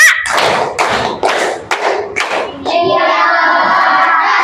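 A class of elementary schoolchildren claps a counted rhythm, five or so loud, close group claps in quick succession, then a held chorus of kids' voices shouting together.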